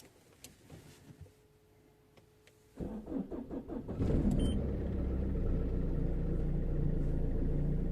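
A Peugeot Partner engine cranks with a rapid pulsing starter whir, then catches and settles into a steady, close, loud idle rumble.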